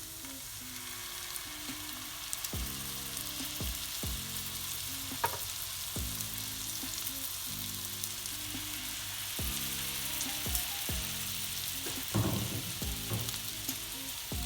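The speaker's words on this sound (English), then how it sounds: "I'm gonna add the salmon in, skin down first. With the skin at the bottom of the pan." Salmon fillet frying skin-side down in a hot pan for a honey jerk salmon, giving a steady close sizzle with scattered spatula knocks and pops throughout.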